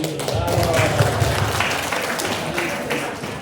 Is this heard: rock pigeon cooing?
no